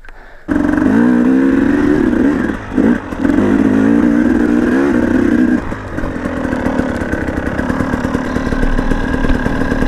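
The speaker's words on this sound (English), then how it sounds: "Give it some gas there, Bubs." A vehicle engine revving hard under throttle, a loud sustained roar with a brief dip, then settling into a steadier rumbling drone.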